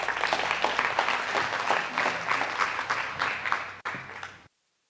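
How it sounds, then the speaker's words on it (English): An audience gives a warm round of applause to welcome a speaker at a talk, close, dense clapping at a steady level that stops abruptly into silence. "Sherif Girgis, let's give him a warm round of applause"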